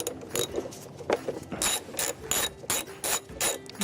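Hand ratchet loosening the bolts on the solenoid cover of a Lexus GS300, giving rapid, close, crisp clicking in repeated short strokes with brief gaps between them.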